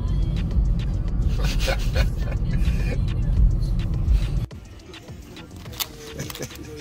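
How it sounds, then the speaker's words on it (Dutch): Car driving on a road in Italy, a loud close rumble with road and wind noise that drops abruptly to quieter cabin sound midway, with a voice speaking over it. "autootje rijdt"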